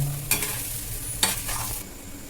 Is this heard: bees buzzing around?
no